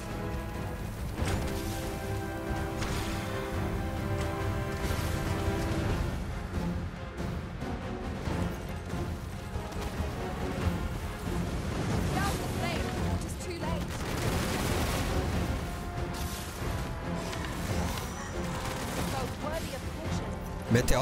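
Rapid bursts of gunfire in Dragon's Dogma 2 crackle continuously under busy action sounds and a talking voice, with frequent loud shots layered throughout.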